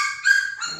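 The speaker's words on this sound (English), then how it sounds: "Yeah, they growl at each other," Neapolitan mastiff puppies squabble with each other, letting out a short, high-pitched, strained whine or yelp that rises and wavers in a couple of bursts, close by and with no talking.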